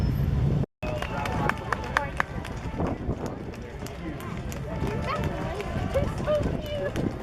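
Police horses' hooves clop on pavement at a distance during the Washington DC Cherry Blossom Festival Parade, an irregular clatter of steps under crowd murmur and background noise.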